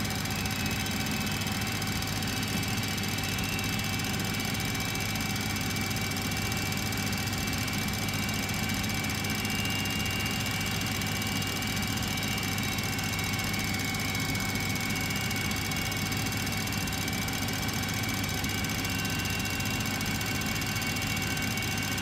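A JT8D turbine engine being dry motored gives a steady, droning hum with a high whine that holds constant throughout, loud and unchanging with no voices.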